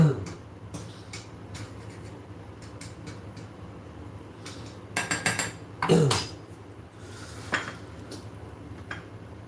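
A spoon clinks and scrapes against a cooking pot while food is stirred, giving irregular metallic taps and a few louder clanks over a quiet room background.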